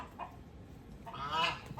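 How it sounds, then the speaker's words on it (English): A goose honks from somewhere behind on a farm in a late-winter afternoon, its calls moderately distant and repeated, rising loudest near the end of the short stretch. "We have our goose back there making a lot of noise."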